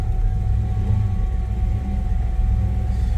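A 1966 Chevy engine idles with a deep steady rumble, a faint fuel pump hum and a thin whine from power steering low on fluid, close and continuous without talk.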